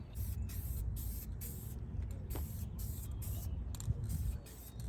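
A spray gun lays a wet coat of dye onto a new car dashboard, steady hissing with brief gaps between passes, fairly close and continuous.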